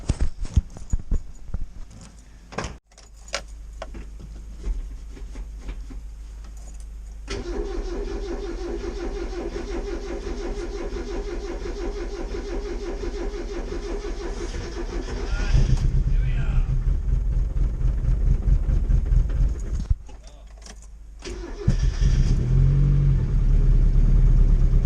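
An old car being started in a workshop, the engine cranking in stutters, catching and settling into a steady idle, then revving louder in bursts, with people talking nearby.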